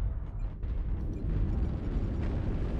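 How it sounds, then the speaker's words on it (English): Artillery strike in a video game, a deep rumbling explosion that stays loud and low for several seconds, with mechanical rattling on top and no break in the roar. "Artillery strike activated."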